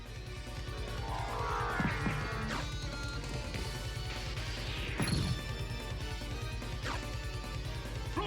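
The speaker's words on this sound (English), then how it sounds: "We're just exploring the castle while wing smashing around" Repeated Wing Smash attacks in Castlevania: Symphony of the Night while exploring the castle, whooshing sweeps and crashing impacts over steady game music, with the loudest hit around midway.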